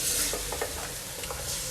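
Chicken pieces frying briefly in hot oil for a creamy white karahi give a steady, close sizzle with soft stirring scrapes throughout, and no one speaks.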